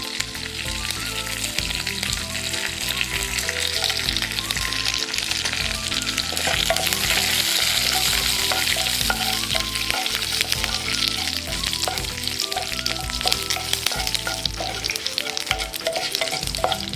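Loud continuous sizzling and crackling of mustard seeds, curry leaves and dried red chilies frying in hot oil, with occasional stirring clinks, steady throughout.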